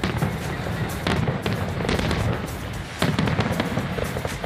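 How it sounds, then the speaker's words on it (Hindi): New Year fireworks over Pakistan, a dense run of bursts and crackles with repeated booms filling the whole stretch, loud and continuous, with faint crowd noise mixed in. "शानदार आतिशबाजी हुई।"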